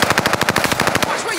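Rapid automatic fire from a PKM machine gun in the video game Call of Duty Warzone, a loud, close burst of evenly spaced shots that cuts off near the end.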